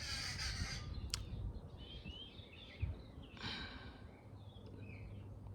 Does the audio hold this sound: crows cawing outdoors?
yes